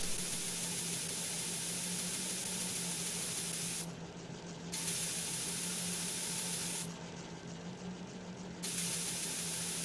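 Two bursts of hissing bug spray in the video game Metal Gear Solid 2 cut in over a steady broadband whoosh and a low hum, each lasting about a second.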